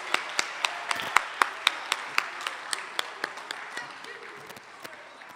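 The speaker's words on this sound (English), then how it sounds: "Please give them a round of applause." Scattered hand claps from a small group at a National Easwaramma Day event, sharp individual slaps in an uneven rhythm that thin out toward the end, moderately close.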